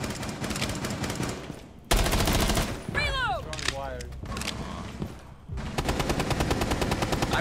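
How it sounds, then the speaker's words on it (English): Rainbow Six Siege gunfire in rapid automatic bursts, loud and close, broken up by brief gaps and mechanical clatter, with players talking intermittently under the shooting. "I'm shooting him. I shot him."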